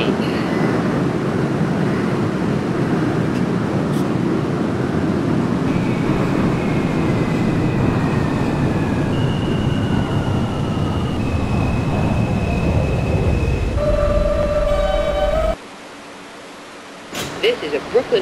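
An R160 subway car on the A express line in a train simulator rumbles loudly along the track, with a rising electric motor whine and pitch steps, then cuts to a quiet hum as the run ends.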